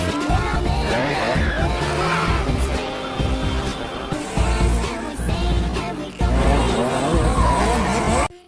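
Race cars from a film speed around a track, engines roaring loudly and continuously with squealing, skidding tires, a brief dip before the roar surges back and then cuts off abruptly at the end.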